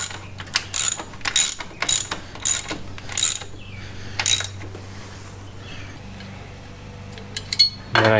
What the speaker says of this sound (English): Now I can reinstall the foot peg.